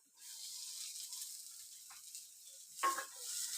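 Fried anchovies tumble into a hot pan of sizzling oil for a nathoLi varuthathu roast, giving a soft steady hiss with a short crackling burst as they land near the end.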